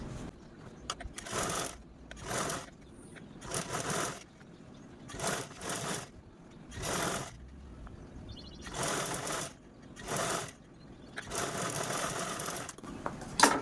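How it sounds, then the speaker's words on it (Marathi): A sewing machine top-stitches along a zipper on old pants, running in repeated bursts of rapid stitching a second or two long, separated by brief pauses, close and clear. "पूर्ण झिपवरती आपण अशा प्रकारे टॉप स्टिच देऊन घेऊया"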